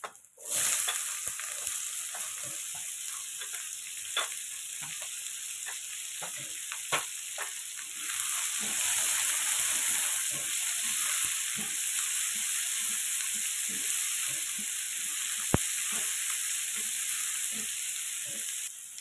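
Onions fry in a pan with leafy greens and fresh coconut tempering, a steady close sizzle and hiss broken by scattered pops and stirring clicks, growing a bit louder partway through, with no talk.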